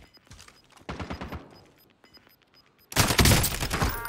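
Bursts of assault rifle fire in Call of Duty Warzone, a couple of short rattling volleys and then a loud sustained close fusillade, with no speech.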